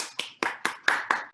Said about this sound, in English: You can clap your hands.